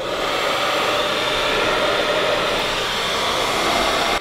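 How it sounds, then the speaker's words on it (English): A household hair dryer runs on its low setting with a loud, steady airy whoosh and motor whine that holds evenly throughout, close to the microphone and without speech. "This is my wife's hair dryer, and we'll turn it on and see how much it draws."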